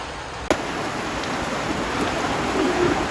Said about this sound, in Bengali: আর আজকে রান্না করার অবস্থায় কিন্তু বৃষ্টি নামছে।